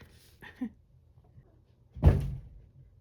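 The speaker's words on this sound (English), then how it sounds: "Yeah, and that's Harley slamming her entire body on my door." A cat named Harley throws her whole body against a bedroom door, giving one heavy, close thud with a short rumbling tail, preceded by a couple of faint knocks in an otherwise quiet room.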